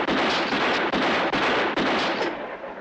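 Gunshots in a 1953 Western film, a rapid series of four or five loud, close blasts in quick succession, each sharp crack followed by a roaring tail.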